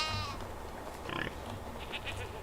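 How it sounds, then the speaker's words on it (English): A goat bleats in the Medieval Dynasty video game, a short, fairly faint call repeating a couple of times over quiet farm ambience. "That is a goat."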